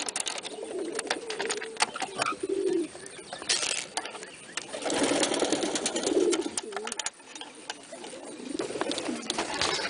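Pigeons coo softly and repeatedly in a loft in the morning, low rolling calls over a steady background hiss with no talking.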